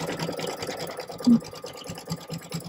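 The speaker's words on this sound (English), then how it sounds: "And he's going to start stitching." A Brother Stellaire embroidery machine stitches a patch with a zigzag stitch, giving a steady, fast mechanical whir with rhythmic needle pulses, close and continuous with no talk.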